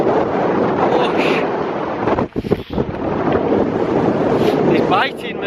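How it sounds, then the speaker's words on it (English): Biting winter wind buffets the microphone on a Lake District hike beside a stream, a loud, continuous roaring rush with a brief dip partway through. "There's a biting wind coming up through here."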